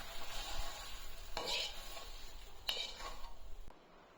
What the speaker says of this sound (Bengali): এই কচুর শাক হয়ে গেছে, এবার ঢেলে নেবো।